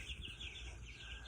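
Chicks in a plywood brooder chirp continuously, a busy layered peeping close by, with a low rumble underneath.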